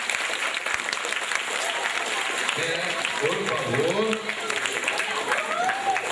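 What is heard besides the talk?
audience applauding standing for teacher Yolanda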